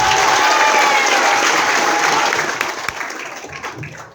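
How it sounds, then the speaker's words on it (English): An audience applauds for one of the founders of St. Baldrick's, with loud, dense clapping that holds steady and then tapers off near the end. "let's give him a round of applause."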